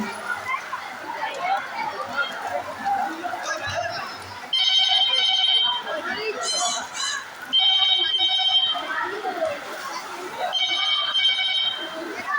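A phone ringtone sounds in three repeated electronic bursts, each lasting a second or two, following a stretch of muffled background voices and household noise.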